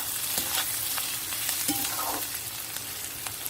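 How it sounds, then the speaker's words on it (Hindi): Onions sizzle steadily in a pan on a low flame while a spoon scrapes and taps now and then, close and fairly loud, with no talking. "बीच बीच में प्याज को चलाते रहना है।"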